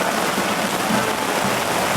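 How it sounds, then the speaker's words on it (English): Rain falls outdoors during a June reception day at West Point, a steady, loud hiss of drops with no pauses and no voices. "rain again."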